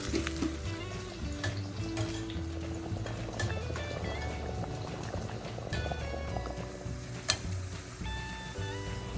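Sliced shallots and curry leaves fry in hot coconut oil for a tempering, a steady bubbling sizzle with scattered crackles and pops, fairly close and without talk.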